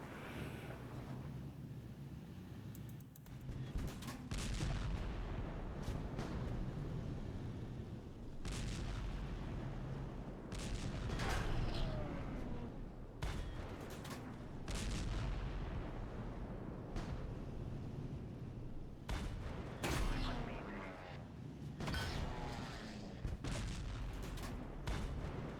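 Tank cannon fire in the online tank game Panzerkampf, as several tanks line up and shoot together, with repeated heavy booms across a steady rumbling battle din, some shots close and loud, others more distant.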